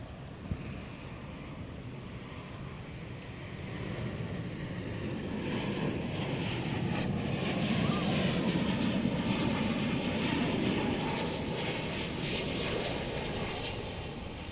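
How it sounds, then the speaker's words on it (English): An airliner on approach to DFW Airport, arriving on the flight from Austin, gives a broad jet engine roar that swells steadily from a distant rumble to a loud, sustained drone, then eases slightly near the end. "Here comes the flight from Austin."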